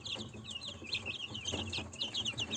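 Chickens and a young Faverolles rooster cluck and chatter in a coop, a soft, busy run of overlapping clucks and calls at moderate distance.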